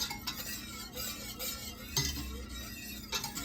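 A spoon stirs soup in a large pan, giving soft scraping and occasional light clinks of utensil on metal at a quiet, close level.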